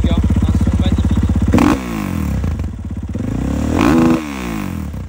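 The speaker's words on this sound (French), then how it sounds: "je vais finir cette petite vidéo, les gars, sur le son de cette bécane" Revving a warm 2023 KTM 500 EXC-F single-cylinder bike with an Akrapovic exhaust up close: a loud idle breaks into two sharp throttle blips that climb and fall away, with mechanical clatter in between.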